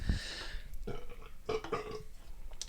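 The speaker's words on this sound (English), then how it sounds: "That was a moist burp." A wet, gurgling human burp rises loudly at the start, then trails off into a few softer throaty bursts, close to the microphone with no talking.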